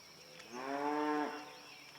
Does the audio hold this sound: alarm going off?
no